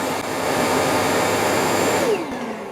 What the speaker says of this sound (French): la station de charge, elle est en train d'aspirer ce qu'il y a dans le robot aspirateur